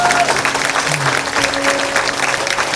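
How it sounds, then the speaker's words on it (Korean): A live audience at a missionary school ceremony bursts into warm, sustained applause, steady and dense clapping filling the hall throughout with no one speaking. "뜨거운 박수로 축복해 주시기 바랍니다"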